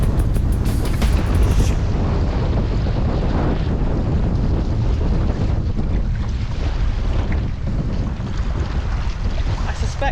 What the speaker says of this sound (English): Okay, that is windy.